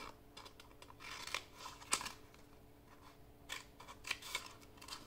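Scissors snip through a Cricut Infusible Ink transfer sheet in quick, quiet, irregular cuts with light crinkling of the sheet, close up and with no talking.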